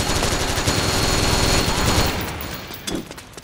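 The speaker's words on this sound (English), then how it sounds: "Wow, that was a chain gun, bro." A chain gun in Metal Gear Online fires a dense, loud, rapid burst of shots for about two seconds, then cuts off, leaving a couple of faint thumps.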